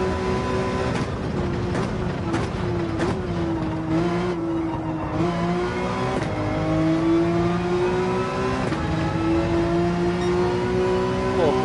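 Car engine at full throttle in Gran Turismo 7, a loud, continuous racing drone that climbs in pitch and drops back at gear shifts, holding steady through a corner.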